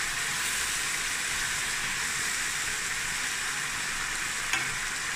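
Onion cooks in a pan with a little liquid for a tuna and egg noodle stir-fry, giving a loud, continuous close sizzle and hiss throughout with a brief scrape near the end.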